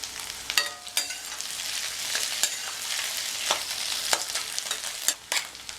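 Food being stirred and mixed in a hot pan for a lunchbox dish, with a steady sizzle of frying and irregular scraping strokes of a spoon against the pan, close and continuous, with no talking.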